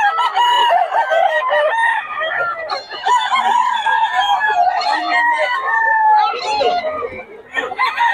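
A young gamecock stag crows loudly and close, with overlapping clucks and calls from nearby chickens filling the whole stretch without a break.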